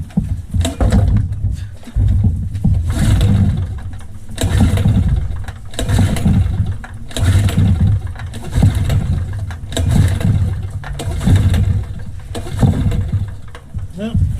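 Two-horsepower two-stroke engine on a small Harbor Freight generator being hand-cranked in repeated loud pulls that sputter without catching, with a voice speaking between attempts.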